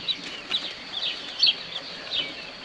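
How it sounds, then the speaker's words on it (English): Two pheasants settle into a new aviary, giving a run of soft, high chirps and clucks at close range, repeated in short bursts over faint background hiss. "There's our first 2 pheasants in the new aviary."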